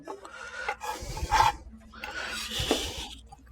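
A knife trims a tomato on a cutting board: a few short, close scraping and rubbing strokes with soft knocks between them.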